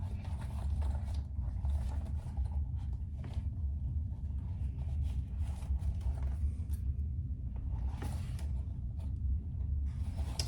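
A sewing machine bastes a seam across the bottom of a fabric crossbody bag, a quiet, continuous mechanical whir with faint clicking and creaking throughout.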